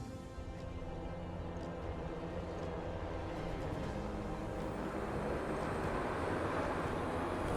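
A delivery drone takes off and flies, a continuous broadband whirring roar that holds steady and grows slightly louder, with no voices over it.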